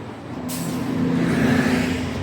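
A city bus gives a sharp hiss of air-brake release, then its engine rumbles and idles close by on a downtown street at night.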